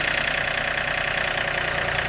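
A John Deere 3025e compact tractor runs steadily in snow, a continuous close engine drone with an even rumble and no voices over it.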